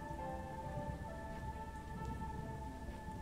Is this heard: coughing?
no